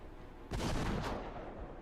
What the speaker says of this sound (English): The roar of a cannon interrupted Nagakura, and the room immediately fell silent.